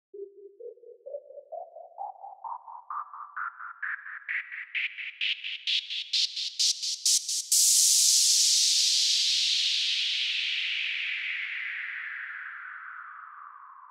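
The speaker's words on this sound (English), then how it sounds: "how to do this neat little white noise riser" White noise riser synth effect built from delayed, repeating pulses that climb steadily in pitch and speed, then break into a sustained noise wash that slowly fades and darkens, with no talking.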